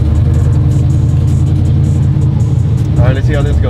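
A sequential burnout truck's engine revs steadily and loud, a deep continuous rumble that keeps up the whole time, with a voice urging it on near the end.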